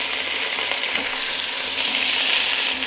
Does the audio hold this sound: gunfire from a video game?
no